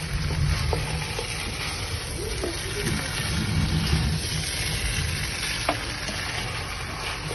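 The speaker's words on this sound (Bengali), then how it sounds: "চালের সাথে মাংসগুলো মিক্স করে তারপর আমি গরম পানি দিব" Chicken meat being stirred into fried parboiled rice for biryani in a pan, with a steady sizzling hiss and soft scraping throughout.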